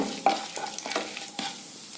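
Cumin, fennel seeds, chana dal and urad dal fry in oil while a spoon stirs them, giving a soft sizzle with a few sharp scrapes and clinks over two seconds, close and moderately loud, no talking.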